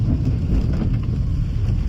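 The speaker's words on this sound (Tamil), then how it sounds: "இங்க பாருங்க மழை கொஞ்சம் பரவாயில்லாம பெய்யுது" Rain falling outdoors, a moderate, steady shower that keeps up a dense, even wash of noise throughout, with a faint gusty rumble underneath and no voices.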